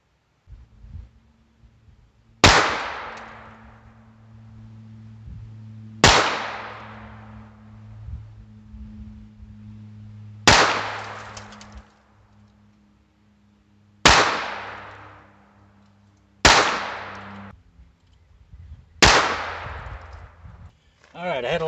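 Six sharp .22 revolver shots from a Heritage Barkeep firing CCI Standard ammunition, evenly spaced a few seconds apart, each a crisp crack with a short fading tail, loud and near.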